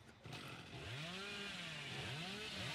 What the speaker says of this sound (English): I'm trying to chainsaw you.